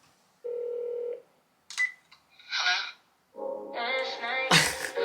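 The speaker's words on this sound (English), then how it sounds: "love the phone call in the beginning" A telephone call effect opens an R&B song: a steady ring or dial tone, then quick dialing and ringing tones, followed by music rising loudly at the end.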